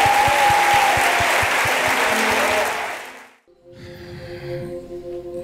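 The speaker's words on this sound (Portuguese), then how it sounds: "queria pedir para você aplaudir essa galera aqui" Church congregation at a worship service applauds loudly with dense clapping for about three seconds, then the clapping stops abruptly and gives way to a quieter hum of voices and music.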